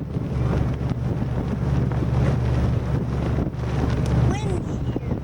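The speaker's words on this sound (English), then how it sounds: "Windy here." Gusty wind buffets the microphone beside open water with a sailboat nearby, a loud continuous rumble with faint voices under it.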